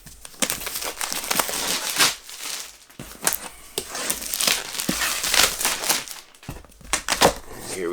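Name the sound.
plastic wrap being cut off a printed cardboard box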